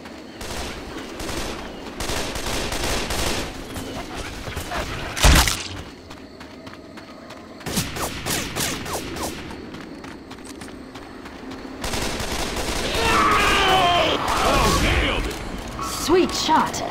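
Rapid gunfire and weapon mechanics ring out in the zombie shooter Left 4 Dead 2, loud bursts and single shots mixed with footsteps and game noise while players talk over the action.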